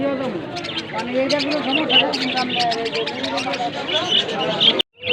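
Pigeons and other birds at a bustling pigeon and bird market, with dense chirping and tweeting over steady crowd babble and nearby voices throughout.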